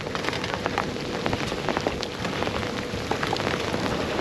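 Heavy rain pours down during a thunderstorm, a dense, loud, steady patter of drops drumming on a nearby surface that runs unbroken through the whole stretch with no talking.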